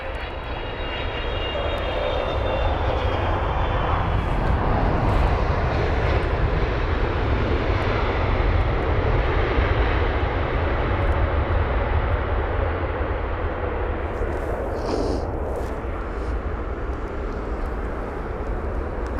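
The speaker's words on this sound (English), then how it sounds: "comes this Kuwait Airways 777-300ER with a reg 9 Kilo Alpha Oscar Hotel" A Kuwait Airways Boeing 777-300ER landing at London Heathrow, its engines giving a steady, loud, broad roar that holds for the whole stretch with no voices over it.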